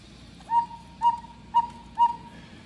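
Four evenly spaced two-note whistle calls imitating a cuckoo from a restored German Black Forest cuckoo clock's bellows-blown whistle, clear and close, with a faint low mechanical hum beneath.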